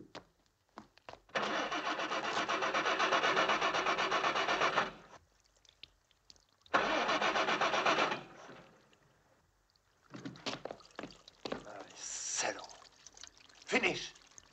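A car engine cranks over in two long, loud grinding bursts of starter whine separated by a pause, followed by rougher revving and scattered clatter, with a voice heard in between.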